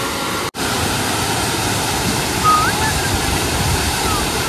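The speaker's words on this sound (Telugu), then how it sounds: "మొత్తానికైతే ఫాల్స్, వాటర్ ఫాల్ బాగుందా పెద్దగా." Steady broadband roar of a waterfall in Wayanad, continuous and fairly loud throughout, with a brief dropout near the start and a faint tonal whistle partway through.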